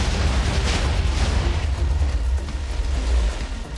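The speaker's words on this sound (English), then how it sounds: "Maybe my explosion sent it flying?" An explosion in a modded Minecraft game gives a loud, sustained booming rumble that holds steady for several seconds, then eases slightly toward the end, with no voices.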